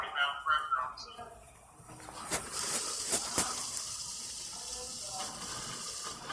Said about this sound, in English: it's going back to blowing dirty water again